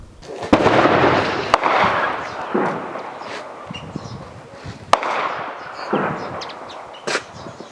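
Artillery fire and explosions on a frontline near Shyrokyne: several sharp booming blasts and cracks, some close and loud, others more distant, with rumbling decay between them.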